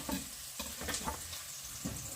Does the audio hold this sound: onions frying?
yes